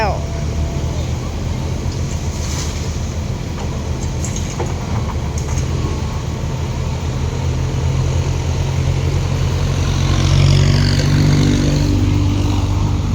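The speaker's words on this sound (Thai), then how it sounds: "รถเกรดไปแล้วตามด้วยรถไถนะคะ" A road grader rumbles past, followed by a tractor, both engines droning steadily and loud at close range on a rural stone-hauling job after rain. The engine noise swells toward the end while someone talks over it.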